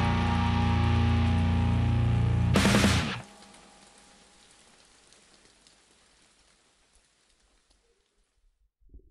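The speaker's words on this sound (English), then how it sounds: "Oh man, that rain sound." A burst of music from a song cuts off and gives way to a soft, fading wash of rain pattering on a surface, growing quieter until near silence.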